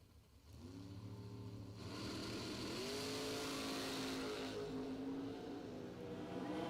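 A 1968 Chevrolet Camaro at a drag strip revs and pulls away with a strong, rising engine note that climbs through gear changes and stays loud and sustained. No voices are heard.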